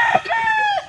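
A backyard rooster crows close by, one short, bright, strained call rising and falling in under a second.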